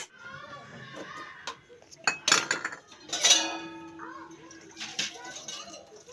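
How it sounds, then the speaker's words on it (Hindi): Dishes, pots and pans being washed at home, with a few loud clattering clanks and scraping clinks rising over steady nearby talk. "मेरे बर्तन धोते धोते"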